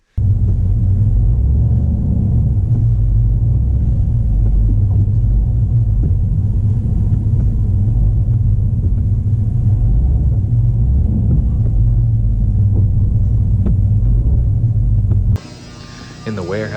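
A truck drives along on the way to a lumber mill, its engine a loud, steady low rumble and road drone that runs throughout before cutting off abruptly near the end.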